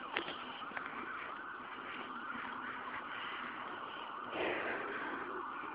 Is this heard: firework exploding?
no